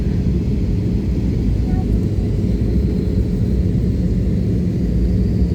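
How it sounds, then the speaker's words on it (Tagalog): Inside the cabin of a jet airliner over Davao City, a loud, constant low engine and airflow roar drones steadily without a break. "Parang mababa yata yung lipad ng eroplano natin ngayon. Hindi naman siya propeller plane."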